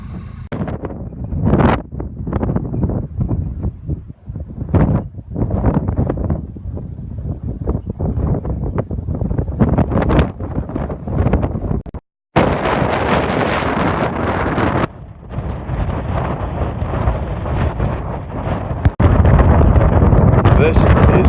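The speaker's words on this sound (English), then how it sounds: "If I thought the wind was bad before, I hadn't seen anything yet." Strong gusts at Malin Head on the Inishowen Peninsula, County Donegal, battering the microphone with loud buffeting roars that surge and drop, becoming a harsh continuous blast in the second half.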